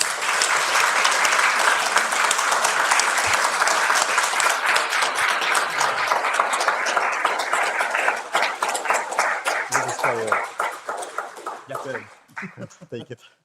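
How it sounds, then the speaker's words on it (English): A conference audience in a hall applauds with sustained, dense clapping for about ten seconds before it thins into scattered claps and fades out. "big applause to Milan Edel"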